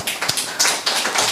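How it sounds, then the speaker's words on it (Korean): A church congregation clapping during a sermon, a short burst of brisk, uneven applause from many hands, close and fairly loud with no voices over it. "박수 한번 쳐주세요."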